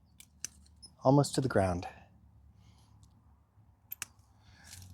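Pruning shears snipping rose stems in a garden, a few sharp clicks and cuts, the clearest pair near the end, heard after a short spoken phrase.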